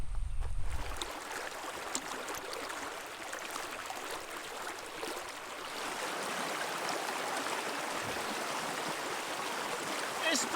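Gunjanbury Creek flows along a bush trail with a steady, close, broadband rushing and trickling that carries on without a break, after a brief low thump at the start.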